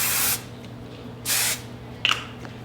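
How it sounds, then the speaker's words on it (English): Two long hissing bursts of hairspray from an aerosol can, misted over freshly curled hair, each lasting about a third of a second with a pause between, followed by a brief faint click; no talking. "Now we're going to hairspray it."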